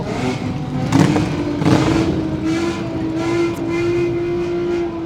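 Motorcycles riding in a procession at a historic car exhibition in Telavi, a steady loud engine drone with a sustained tone and revving swells as the bikes pass nearby, continuous for several seconds.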